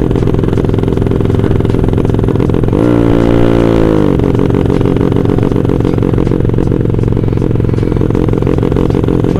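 A Yamaha Mio motorcycle engine set to fuel map 2 runs loud and close, holding a dense, steady drone broken by one sharp rev swell that rises and settles back about three seconds in. No one speaks.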